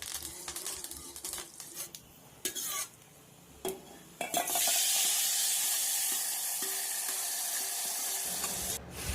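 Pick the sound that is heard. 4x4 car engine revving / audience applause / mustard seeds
mustard seeds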